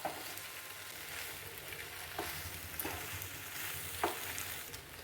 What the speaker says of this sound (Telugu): వేసి బాగా మిక్స్ చేద్దాం